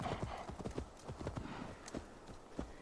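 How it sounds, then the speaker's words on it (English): A horse gallops up in Assassin's Creed Valhalla, its hooves clopping in a quick, steady rhythm at moderate distance, with a faint whinny amid the game's ambient background. "I wanted to see if a horse would show up or something."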